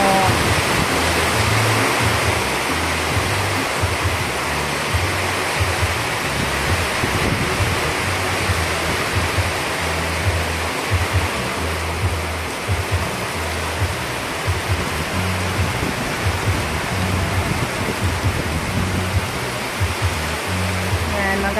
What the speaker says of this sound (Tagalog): Binigay mo kami ng ulan.